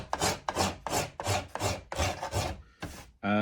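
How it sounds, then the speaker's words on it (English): A steel scraper draws across violin wood, the area near the soundpost, in about nine steady, close rasping strokes, each a broad scratchy burst, before a brief pause and a final stroke. "So I'm working entirely with a scraper now."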